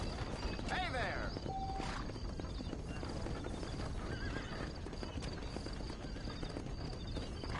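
In the video game Red Dead Redemption, a horse whinnies sharply, then hooves clip-clop steadily beneath a constant background bed, with game-like ambience throughout.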